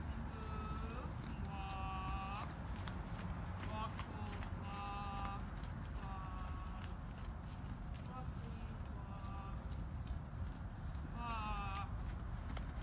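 Hooves clip-clop at a steady walking pace over constant background noise, with bursts of whinny-like chirps now and then.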